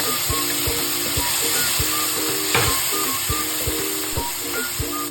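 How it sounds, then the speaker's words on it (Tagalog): Chopped tomatoes sautéed in a pan over onion and garlic for picadillo, giving a steady close sizzle punctuated by regular spatula scrapes and taps against the pan, with no voices. "Sinunod kong igisa yung kamatis"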